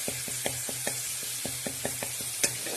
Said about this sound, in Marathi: हे टोमॅटो हे चांगले असे परतून घ्यायचे